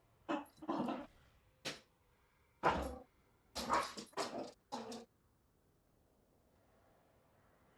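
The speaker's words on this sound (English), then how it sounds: "These dogs are going bananas." Dogs bark in World of Warcraft, several loud, close yips and barks in bursts over about five seconds, then quiet.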